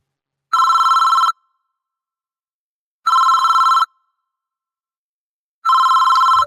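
A telephone rings in three loud, evenly spaced electronic bursts, each under a second long and separated by about two seconds of silence, close and clear with no talk.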